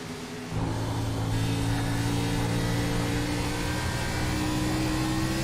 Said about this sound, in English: Let's take a ride along with our leader as he goes through lap traffic.